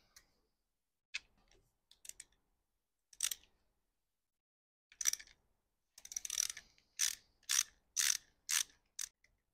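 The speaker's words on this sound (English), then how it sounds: "Remove the four bolts holding the front bearing retainer to the transmission." A ratchet wrench removes 13 mm bolts from a manual transmission's front bearing retainer, heard as quiet, close bursts of metallic clicking and ratcheting, sparse at first and then quicker, with pauses in between.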